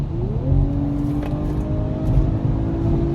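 A 2024 Ford Bronco Raptor accelerates hard, its engine roaring loudly and climbing in pitch, with a shift partway through before it pulls upward again. No one speaks.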